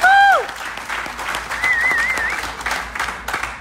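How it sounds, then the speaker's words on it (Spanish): Applause from a congregation at a pastors' wedding in California, steady clapping through the whole stretch, with a brief bird-like whistle and some faint voices mixed in. "¡Aplauden fuerte, mi amigo!"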